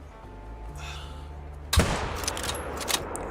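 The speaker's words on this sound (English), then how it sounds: "We're gonna shoot it." A single sharp rifle shot cracks loudly at a capybara in the hunting game theHunter: Call of the Wild, followed by a fading echo and faint rustling.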